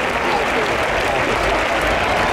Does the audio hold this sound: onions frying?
no